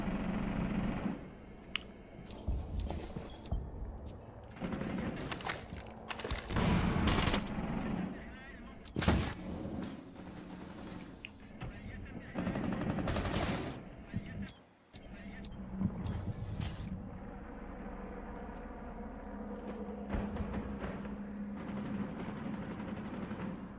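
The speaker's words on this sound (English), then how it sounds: "We have the Zofia LMG as well." Light machine gun fire from the operator Zofia in the video game Rainbow Six Siege, with rapid bursts of gunfire among other in-game noise and under a person talking over the action.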